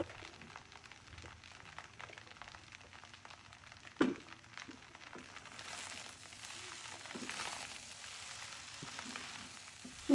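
Spring onions and green chilies frying in a pan for egg fried rice give a steady, soft sizzle with faint crackles and one sharp clink partway through, no voices.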